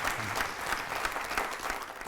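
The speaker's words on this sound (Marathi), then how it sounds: "जोरदार टाळ्या होऊन जाऊ दे" Audience applause rings out after a melodious music performance, a dense, steady patter of many hands clapping at close range for about two seconds with no voices over it.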